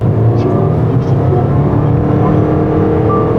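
Engine noise fills the cabin of a Toyota Crown Dual Boost Hybrid with E-Four electronic all-wheel drive as it accelerates, a steady, loud drone without stepped shifts.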